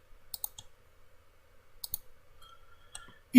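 Computer mouse clicks while modelling in AutoCAD: a few sharp, quiet clicks in small clusters with pauses between, close and alone in a quiet room.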